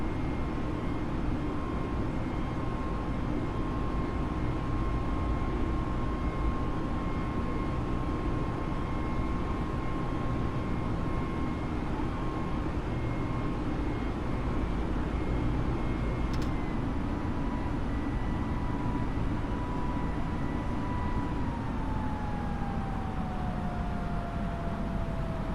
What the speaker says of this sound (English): We try to fly this Airbus a bit manually.